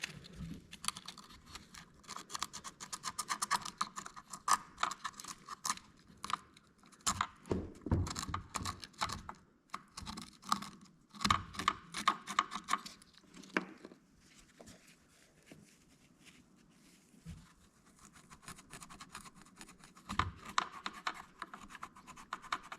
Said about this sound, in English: I'm going to go ahead and just take some sandpaper, emery cloth, and clean off this mounting surface.